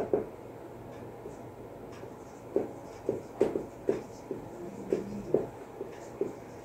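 Pen strokes scratch out a trigonometry problem on paper in short, irregular taps and scrapes, close and fairly quiet, with no talking.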